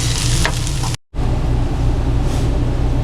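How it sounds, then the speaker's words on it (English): Food seasoned with salt and pepper sizzles loudly in a pan outdoors beside an RV while being stirred and mixed, a dense continuous frying hiss broken by one very brief drop-out. "I'm gonna give it a good mix until everything is combined."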